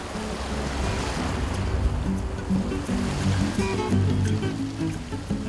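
Safari vehicle driving through a river in Madikwe, South Africa, a steady rushing wash of churning water with an engine rumble underneath, close and unbroken.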